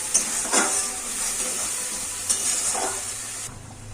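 Steady sizzling hiss of spices with chili powder sautéing in a hot pan, with a few soft scraping stirs breaking through at intervals; no talking.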